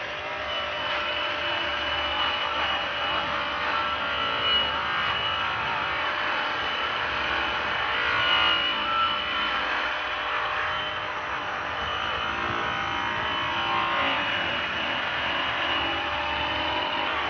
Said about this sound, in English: It's going to use the Zephyr purple wheel with the green chrome rouge.